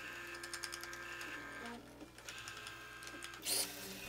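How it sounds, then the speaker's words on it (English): A stepper motor drives a toothed belt that moves the tape of a model Turing machine, giving a quiet, close mechanical whirr with stuttering rhythmic pulses and a brief sharper whine near the end. "These cogs are moved with a stepper motor driving a toothed belt system."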